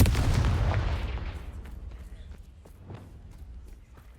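A Confringo blasting spell fired in Hogwarts Legacy bursts with a heavy, booming impact that fades into a rumbling tail, followed by fainter thuds and scattered footsteps.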